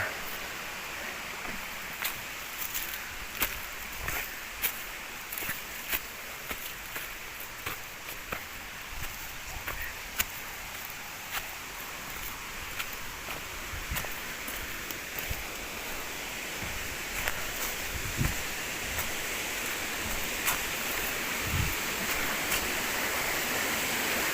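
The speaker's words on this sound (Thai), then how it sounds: "มาเจอแล้วครับ น้ำตก นี่นะครับ" Huai Pu Ling waterfall in Mae Hong Son, Thailand, rushes in a steady broad wash of falling water, with scattered faint clicks and knocks nearby over the continuous roar.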